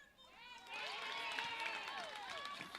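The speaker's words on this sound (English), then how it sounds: "Crowd getting around that one a bit" A netball crowd at an A Grade elimination final in Glengarry cheers after a shot, a swelling wash of voices and shouts that builds and holds, with some talk mixed in.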